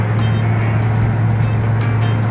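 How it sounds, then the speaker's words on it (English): A 2000 Corvette with a salvage title, just back on the road after sitting a long time, cruises with a steady low engine drone and constant road noise, close and continuous with no talking. "just heading down the road in the 2000 salvage title Vette after sitting for a very long time"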